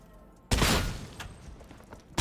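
Heavy stubber machine gun in Darktide firing a loud, dense burst that tails off into scattered shots, then a second sharp blast erupts at the end.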